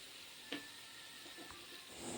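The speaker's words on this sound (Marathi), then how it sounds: "आता हे मी तुपामध्ये फ्राय करून घेते" Marinated paneer fries in ghee, making a soft, even sizzle and hiss throughout, quiet and close, with a couple of faint clicks from stirring.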